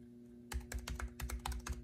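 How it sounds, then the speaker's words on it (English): Keys clatter on a Jelly Comb K62B-3 wireless backlit keyboard, about a dozen quick close taps in an irregular burst after a short quiet start. "Of course I'm just typing, you know, random letters into there."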